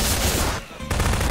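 Gunfire in the video game Garry's Mod: a rapid burst of shots, a short break, then another loud burst.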